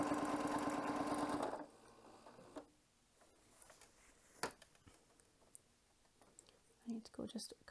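Sewing machine stitching fabric during ruler quilting, a steady loud run of stitching for about a second and a half, then stopping, followed by quiet handling noises and a few soft clicks.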